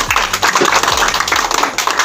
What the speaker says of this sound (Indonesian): Tepuk tangan kepada kelompok 4.